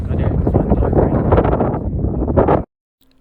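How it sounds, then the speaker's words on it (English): Wind at the Aberystwyth seaside buffets the microphone in a loud, rough, continuous roar, then cuts off abruptly into near silence. "wind."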